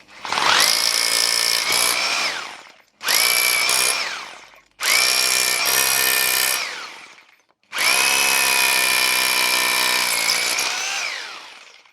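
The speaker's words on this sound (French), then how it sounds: "Voyons maintenant ce que donne cette machine en situation avec le perçage d'un parpaing avec une mèche de 10 mm" A Bosch GBH 2-28 F rotary hammer in hammer-and-rotation mode bores a cinder block with a 10 mm bit, four loud close bursts of whining, rattling drilling, each starting abruptly and then cutting out, with a final longer run.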